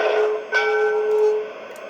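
Locomotive bell from a Proto 1 model train sound system, ringing loud and close in a steady sustained tone with one fresh strike partway through, then a slightly softer ring at the end.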